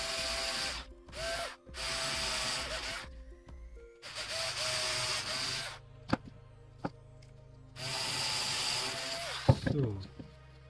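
Power drill pre-drilling holes in wood, several whirring bursts of the motor with pauses and small clicks and knocks between them, close and moderately loud.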